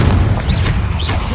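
A Confringo blasting curse erupts in Hogwarts Legacy as a loud, sustained booming explosion with a deep rumble and faint whooshing spell effects on top, filling the whole moment with no voice.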